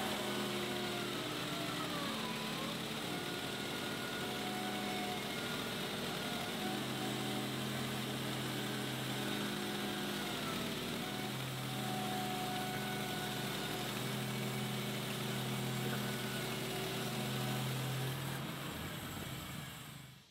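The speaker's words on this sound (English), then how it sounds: "I think I'm gonna have to do all my ripping with the bandsaw." A bandsaw ripping wood boards for a slab rack, a steady close motor hum with a rasping cut that rises in pitch as each board feeds through, running continuously before winding down at the end.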